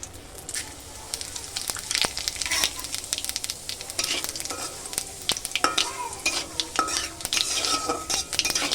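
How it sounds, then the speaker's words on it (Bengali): Bay leaf, whole dried chillies and cumin seeds fry in hot oil in a wok, giving a steady close sizzle and crackle broken by sharp metallic clinks and scrapes of a spatula stirring against the pan. "এটা একটু ভেজে নিচ্ছি"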